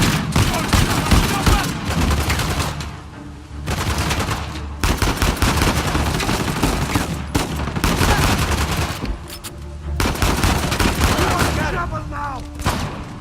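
Rapid bursts of automatic gunfire in the video game Uncharted: The Lost Legacy, dense crackling volleys broken by brief pauses, loud and close throughout, with voices speaking over parts of the shooting.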